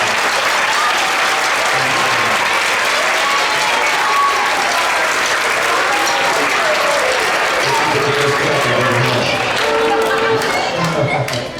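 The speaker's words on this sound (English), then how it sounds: "Let's give a big round of applause for the Ross Community Foundation." Loud, sustained applause fills a middle school auditorium, many hands clapping densely while scattered voices and a few cheers murmur through the crowd.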